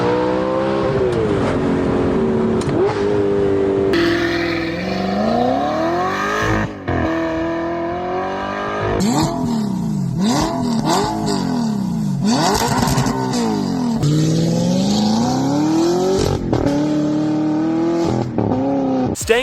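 An Audi R8 with a 4.2-liter naturally aspirated V8 revs loud and close through a series of rising sweeps, climbing and dropping repeatedly for about twenty seconds with no talk.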